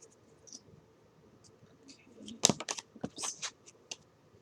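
Soft riffling and flicking of tarot cards being shuffled, a cluster of quick papery snaps in the middle, close and fairly quiet.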